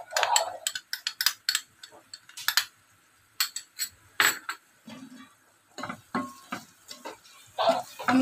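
Spices and Maggi masala being stirred into cooked vegetables in a pan: a spoon scrapes and clinks against the metal in quick irregular bursts, close and clear, with short pauses between strokes.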